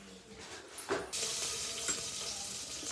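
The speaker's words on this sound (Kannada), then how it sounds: "ಫೈನಲಿ ಸಾರು ಒಗ್ಗರಣೆ" Spices being tempered in hot oil for saaru, a South Indian broth, give a steady close sizzle with a sharper burst about a second in, then continuous frying hiss with no talking.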